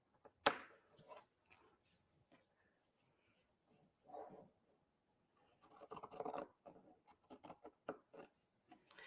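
Pinking shears cutting fabric for a homemade Christmas tree garland, a handful of short crisp snipping and scraping bursts separated by quiet pauses, close and faint.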